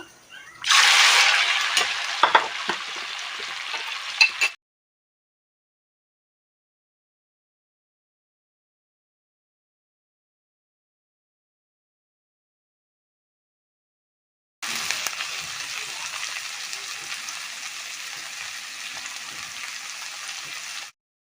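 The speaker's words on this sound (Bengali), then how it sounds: "মাছগুলো ভেজে নেব।" Shrimp fry in oil in a pan with a bright crackling sizzle in two bursts, separated by a long stretch of silence, the second burst steadier and quieter than the first.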